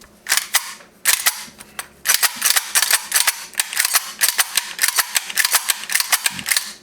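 Airsoft gun firing repeatedly, sharp snappy cracks in quick bursts and single shots, close and loud, with mechanical clatter between shots.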